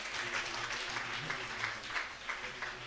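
A church congregation applauding, with continuous clapping from many hands that holds steady throughout.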